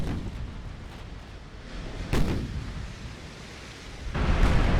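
Heavy battleship artillery in the naval game Ultimate Admiral: Dreadnoughts, deep booming shots rolling like distant thunder, two or three heavy blasts over a constant low rumble.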